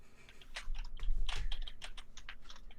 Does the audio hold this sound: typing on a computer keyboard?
yes